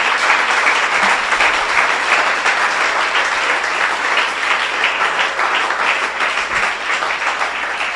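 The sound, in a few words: church congregation applauding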